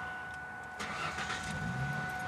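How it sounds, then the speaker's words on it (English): A car engine cranks and catches during a driving lesson, a short starter burst rising into a low running rumble over quiet background hum. "Start the car."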